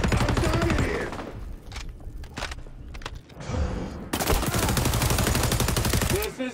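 Rapid automatic gunfire in the shooter game XDefiant rattles in loud sustained bursts, breaking off briefly in the middle before resuming just as dense.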